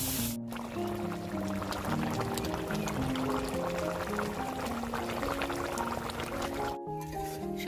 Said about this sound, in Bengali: এখন ঝোল দিয়ে দিব